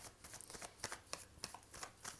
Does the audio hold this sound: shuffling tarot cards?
yes